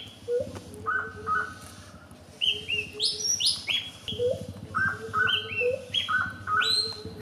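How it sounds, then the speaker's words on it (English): A Bornean green magpie calls repeatedly in a mountain forest on Mount Kinabalu, Sabah, clear whistled notes rising and falling in short phrases over a low, steady forest hum. "This Bornean green magpie, that is endemic once again to mountain forests of North Borneo"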